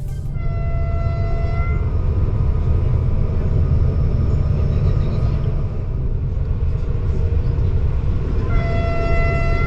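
A train rumbles loudly along the Mill Railway line in Germany, a steady heavy roar with tonal hums and a faint horn-like tone at start and end.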